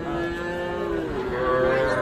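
Small calves moo at a busy cattle market in Ambari, a steady drawn-out bellow with strong harmonic tone close to the recorder, over a constant background of crowd murmur and market noise.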